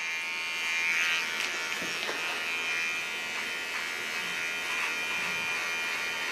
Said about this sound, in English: Afterwards I clean it with a zero shaver.